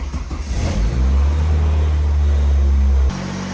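A car engine with a faulty idle air control valve cranks and fires, then settles into a loud, steady high rev that holds for a couple of seconds before cutting off abruptly.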